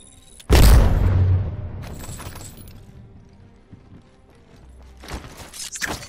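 An Arc Star grenade thrown in Apex Legends, giving a sudden heavy impact followed by a fading electrical crackle, then a few sharp clattering hits later on, with no voices.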